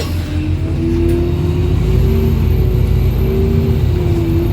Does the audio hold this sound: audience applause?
no